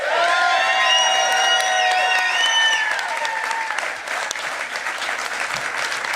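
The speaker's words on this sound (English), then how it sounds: "Please give her a round of applause." Sustained applause fills an election night hall as a crowd claps loudly and steadily, fading slightly over six seconds, with a few whoops and cheers rising over the clapping.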